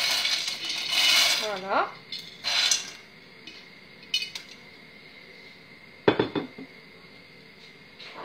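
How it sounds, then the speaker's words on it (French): Dry pasta rattles into a cooking pot in clattering, tinkling pours, a long rush at the start, a second shorter spill, then scattered clinks and a final sharp clatter, close up with a brief spoken word. "je vais mettre des pâtes dans un faitout, comme ça, sans les faire cuire."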